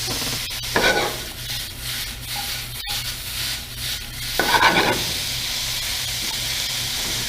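Tomato cooking down in a pan for a fish dish in cream sauce, a steady close sizzle and hiss with a couple of brief stirring scrapes, no voices.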